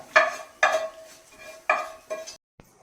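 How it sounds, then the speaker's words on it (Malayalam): A spoon stirring cooked tapioca with coconut milk in a pan, heard as four quick scraping strokes in a close, fairly quiet kitchen, then a short pause and a final tap. "എല്ലാം കൂടെ നല്ല രീതിയിൽ ഇളക്കിയെടുക്കുക"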